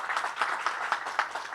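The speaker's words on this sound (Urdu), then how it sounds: "آپ تالی بجا سکتے ہیں ان کے لیے۔" Scattered crowd applause at an outdoor Tehreek Jawanan Pakistan long march rally in the capital, steady rapid clapping of moderate loudness with no talk over it.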